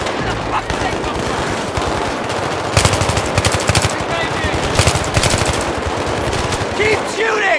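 Sustained automatic machine-gun bursts in the video game Battlefield 3, rapid and loud, with rattling repeats over a dense battlefield background.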